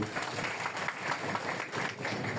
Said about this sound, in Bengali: ওনার জন্য একটু করতালি দাও সবাই